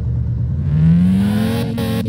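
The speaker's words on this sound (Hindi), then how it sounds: "सबकी गाड़ी के साउंड भी सुन रहे हैं, सबकी अच्छी गाड़ी के साउंड है।" Car engines revving in the video game Game Store Simulator, a steady loud engine hum rising in pitch as it climbs, with no one talking over it.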